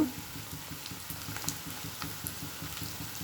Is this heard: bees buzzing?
no